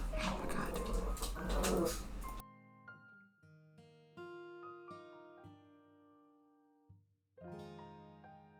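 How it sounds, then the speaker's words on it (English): A dog growls and whimpers in sharp, tonal bursts with rising yips and a pause between, close and loud, right after a person speaks over noisy background. "That was a very angry dog."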